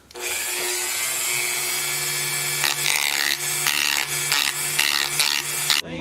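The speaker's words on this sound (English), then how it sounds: "I think I can do it with this very fine sanding disc and just do it very carefully" A steady, close power-tool whine with a gritty abrasive rasp, rising and roughening in bursts as a very fine sanding disc grinds against brittle wood on a custom guitar.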